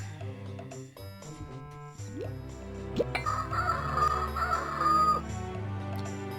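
A bird caws in the Goblins Quest 3 adventure game, a short rough call heard over tonal background music with other small game sounds around it.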